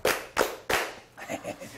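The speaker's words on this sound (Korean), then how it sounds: "의미 있는 세 박자 박수였으니까요" Three loud, deliberate hand claps from a small group in a Korean broadcast studio, evenly spaced and close, followed by softer scattered sounds and murmuring.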